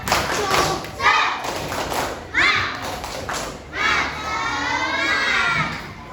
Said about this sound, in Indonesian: Ayo ulang lagi, sekali lagi tepuk semangat.